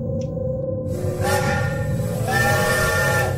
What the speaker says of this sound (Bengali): গার্ডের হুইসেলের সঙ্গে সঙ্গে ট্রেনের ভূ শোনা গেল।